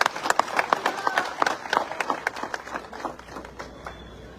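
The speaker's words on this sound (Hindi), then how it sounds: "जोरदार ताली भाई।" A crowd at a political speech in Karawal Nagar, East Delhi, applauds with sharp, scattered hand claps that peak early and gradually thin out. Voices and murmur sit underneath.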